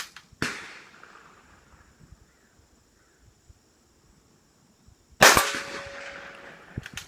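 Two sharp, loud rifle reports from a Savage 93 in .22 Magnum, spaced about five seconds apart at an outdoor practice range, each followed by a ringing metallic clang as the bullet strikes a steel target, with quiet pauses between.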